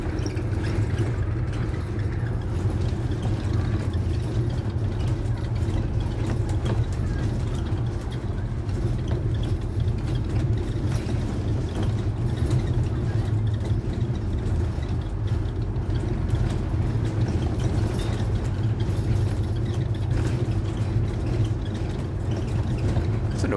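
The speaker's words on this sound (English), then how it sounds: "It's a noisy bus." A noisy bus drives along with a steady low engine rumble and rattle throughout, moderately loud, no distinct impacts standing out.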